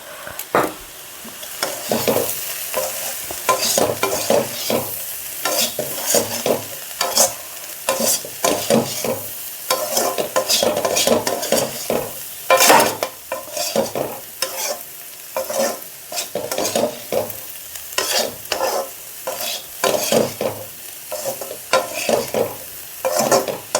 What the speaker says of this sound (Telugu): సిమ్లో పెట్టి బాగా కలపాలండి